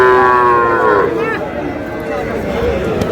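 A young bull calf at the Ambari cattle market in Dinajpur gives one long, loud, drawn-out moo close by, falling in pitch, while market voices murmur in the background.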